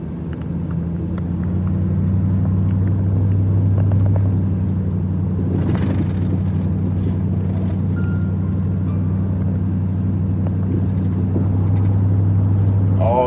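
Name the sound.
car driving home in fog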